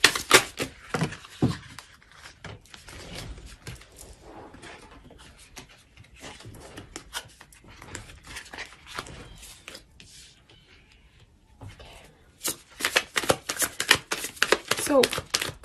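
Tarot cards being shuffled by hand in close, crisp bursts of riffling and slapping, loudest at the start and again near the end, with quieter handling between.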